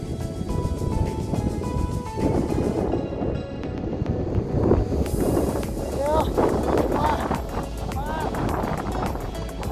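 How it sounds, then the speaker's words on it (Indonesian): Wind buffets the microphone on a misty mountain trail up Mount Lawu via Cemoro Sewu, a steady loud roar throughout, with people talking over it. "angin"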